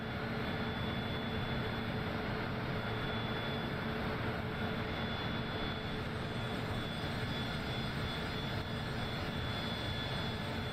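Cessna Citation CJ4 business jet taxiing toward the runway in Microsoft Flight Simulator, a steady, even turbine whine and broadband engine rumble with a thin high tone, continuous and unchanging throughout.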